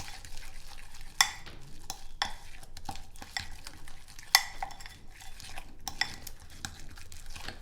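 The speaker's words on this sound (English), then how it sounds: "we're going to go ahead and just stir this up first to see how the batter's looking" A utensil stirs chocolate coconut protein cookie batter in a bowl, giving soft, quiet scraping strokes with a few sharper clinks against the bowl's side.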